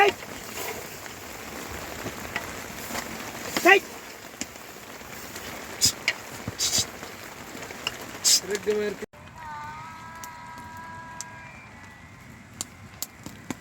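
Rain falling on a shepherd camp tent in the Himalayas, steady patter and scattered drips against the fabric, with occasional louder taps and bleating goats joining near the end.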